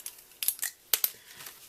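Scissors snipping through paper while making a greeting card, a few quiet, close, crisp cuts in two short pairs with small rustles between.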